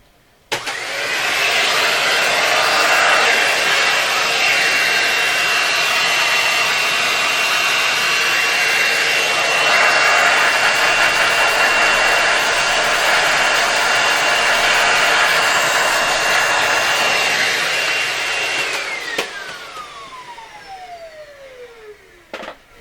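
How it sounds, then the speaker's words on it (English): A vacuum cleaner runs steadily and loudly for about twenty seconds, pulling loose powder from the chassis of a 1929 Victor RE-45 radio, then winds down with a falling whine as the motor shuts off. "first I should vacuum away what's there"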